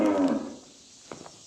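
A cow at a sale barn gives one loud, close moo that fades out, followed by a few faint knocks in a quiet space.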